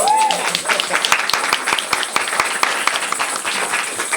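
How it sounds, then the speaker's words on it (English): Audience applause at a Black leaders' luncheon, a steady round of clapping from a roomful of people lasting a few seconds, with a voice over it at the start. "let me give him a round of applause, too"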